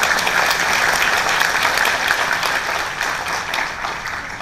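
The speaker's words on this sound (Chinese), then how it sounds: "请给自己一个掌声哦" An audience at a business seminar on earning income through Atomy claps together in a steady, dense burst of applause that fills the room evenly from start to finish, with no speech over it.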